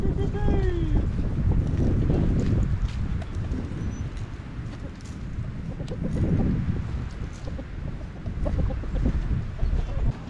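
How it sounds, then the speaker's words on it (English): A flock of fourteen hens cluck and chatter outdoors against heavy wind rumble, with a voice talking intermittently over the flock. "All 14 chickens were outside."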